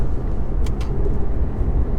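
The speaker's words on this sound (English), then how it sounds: "That shift though, bang. It's like a gunshot, it's so fast." A 2015 Porsche Panamera Turbo S accelerates hard, its deep engine roar steady inside the cabin, broken by a quick, sharp gear-shift bang midway.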